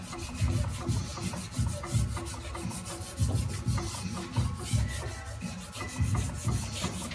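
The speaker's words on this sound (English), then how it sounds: "I would actually use a steel bristle brush if you have one." Steel bristle brush scrubbing rust off a bare steel barbell, a close, steady series of rough rasping strokes repeating in an even back-and-forth rhythm.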